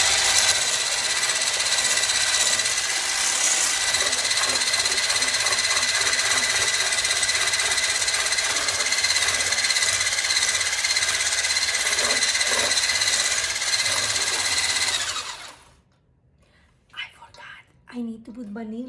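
An electric mixer beats eggs, sugar and butter for banana bread, a steady loud whirring drone that runs continuously for about fifteen seconds, then cuts off, leaving a quiet kitchen with faint sounds.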